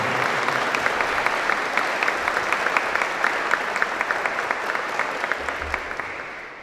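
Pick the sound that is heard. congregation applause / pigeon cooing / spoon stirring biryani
congregation applause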